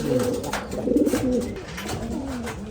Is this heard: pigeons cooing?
yes